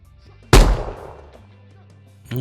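A single sharp, loud pistol gunshot from a video game rings out and decays over about a second, followed by a low hum and the start of another sharp sound at the end.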